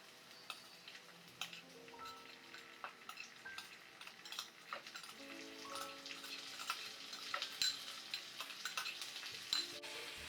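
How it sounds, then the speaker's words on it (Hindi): Soaked rice being stirred in a pan with cumin seeds, soft scraping and ticking spoon strokes over a faint, low sizzle, fairly quiet with background tones, no speech. "अब इन चावलों को हम इस तरह से हिलाते रहेंगे और करीब 1 मिनट तक इन्हें कुक होने देंगे"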